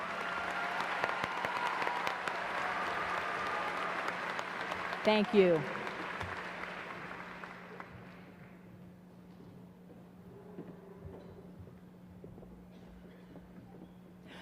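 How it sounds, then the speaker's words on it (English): Audience applause at a 2019 Stony Point graduation ceremony, a dense steady clapping wash that fades gradually, with a brief voice near the middle and outdoor wind noise underneath. "Let's give our top 10 another round of applause"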